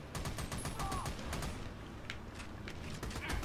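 Gunfire aimed at the player in the video game Army of Two, a dense run of rapid shots and clatter from a busy firefight that keeps on steadily throughout, with a voice speaking over it.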